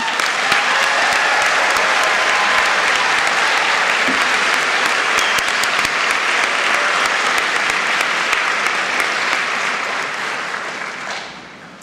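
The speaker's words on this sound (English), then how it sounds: "give a round of applause in an expression of deep gratitude to our friends and everyone" An audience at a commencement ceremony gives loud, sustained applause, a dense wash of clapping that holds steady for about eleven seconds before tapering off at the end.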